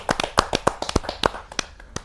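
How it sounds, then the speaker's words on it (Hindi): A small audience at a poetry recital claps in sparse, uneven handclaps, a dozen or so sharp close taps scattered over two seconds rather than a full ovation. "जोरदार तालियों के साथ हम उनका स्वागत करें"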